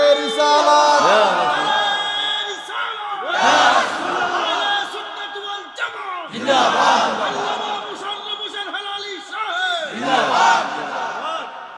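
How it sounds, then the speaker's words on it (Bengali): A large crowd at a religious sermon gathering shouts Allahu Akbar in repeated loud, rhythmic bursts, several waves of massed voices rising and falling. "হাত তুলে বলেন আল্লাহু আকবার, আরো বড় করে বলেন আল্লাহ।"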